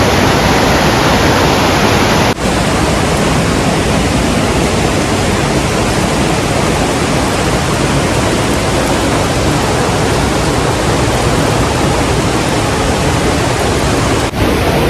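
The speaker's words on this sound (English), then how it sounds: "You can see that down there. The water is moving." Steady, loud rushing water fills the whole stretch, a dense broadband roar of a river pouring near Cumberland Falls, with no voices.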